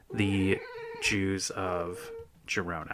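A pet cat named Ghost meows several times in drawn-out, harmonic cries, close and loud, with a voice talking in between.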